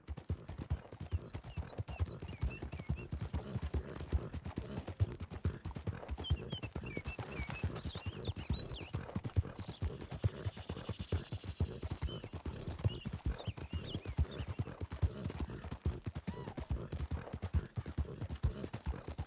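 Horse hooves clip-clopping in Red Dead Redemption 2, a fast, continuous galloping beat running steadily for the whole stretch at moderate volume, with a brief whinny partway through.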